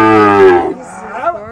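A cow or calf bellows loudly and close by during a cattle vaccination, with a calf tangled in a cow's horns. A single strong moo lasts about half a second, then fades into quieter, rougher low sounds.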